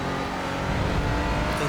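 A Porsche Cayman GT4 accelerates hard out of a corner at Laguna Seca in iRacing, its engine a dense, steady, loud roar that builds slightly in intensity over under two seconds.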